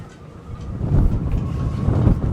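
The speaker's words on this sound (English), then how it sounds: "It's a bit windy." Gusty wind buffets the microphone with low rumbling blasts that swell and fade, on the deck of a sailing yacht, with no talking.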